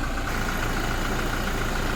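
A Toyota Fortuner 2.4 diesel engine idles steadily with a smooth, continuous low rumble heard close by, with no other sounds.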